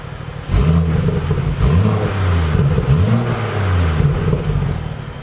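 BMW M2 with an XForce Varex adjustable exhaust in quiet mode, several revs close by, each rising and falling in a smooth, muted growl over a steady idle.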